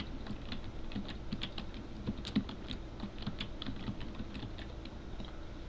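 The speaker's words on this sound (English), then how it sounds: "and start to type in science fiction" Rapid, steady typing on a computer keyboard, close and fairly quiet, with a stream of light key clicks and the occasional heavier press, no voices.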